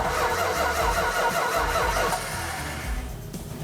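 A 1970 Hemi Challenger engine cranks and catches, then runs roughly and loudly close by for a few seconds, easing slightly toward the end, with no voices.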